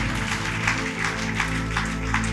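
A church congregation claps together during worship. Dense, rhythmic clapping swells over loud sustained instrumental music.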